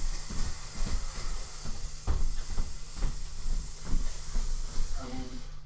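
A spray can mists finish onto a wooden game table, giving a steady, close hiss that runs through the whole stretch with brief dips, alone without talk.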